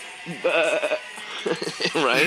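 A voice imitates a sheep, making a wavering, nasal bleat that trembles in pitch. Short bursts come close up, and he speaks briefly among them.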